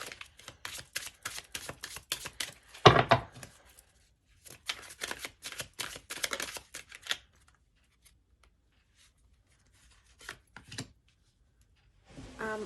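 Tarot cards being handled and shuffled, a run of soft riffling bursts and papery flicks with quiet pauses between them, fairly close and with no talk.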